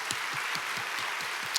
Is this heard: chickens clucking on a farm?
no